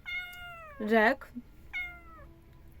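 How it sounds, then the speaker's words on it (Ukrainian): A domestic cat meows up close, with one long, drawn-out cry, then a louder, higher call, and another meow after a pause. A person speaks briefly in between. "Так, це мій кіт."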